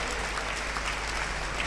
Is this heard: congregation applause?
yes